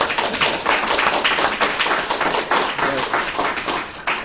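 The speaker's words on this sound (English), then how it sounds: "I'd just like to give a round of applause to our presenters." A room full of people claps steadily for a few seconds, a dense, even wash of applause that holds its level throughout.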